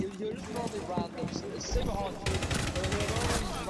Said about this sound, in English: Pulled out the P9 and blasted that motherfucker